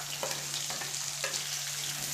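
Chopped onions sizzle steadily in a hot pan as the base for a chicken gravy: a dense, even frying hiss with a few soft stirring knocks and a low steady hum beneath, close and moderately loud.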